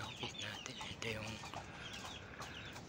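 Backyard chickens cluck and chatter during feeding, several birds close by with irregular short calls layered over each other and a voice speaking among them.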